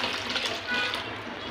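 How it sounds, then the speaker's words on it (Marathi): Water pours onto half a kilo of sago pearls being washed, a brief, steady splashing rush at close range with no speech. "पाणी घालत आहे।"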